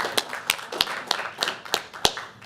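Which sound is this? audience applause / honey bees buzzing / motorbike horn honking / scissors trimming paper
audience applause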